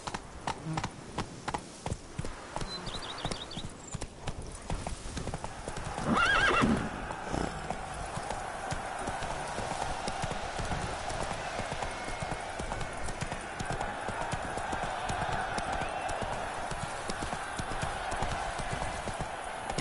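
Roach, a horse in a video game, clip-clops steadily throughout with a neigh or whinny rising around the middle; the hoofbeats stay fairly even and continuous, with no talk over them.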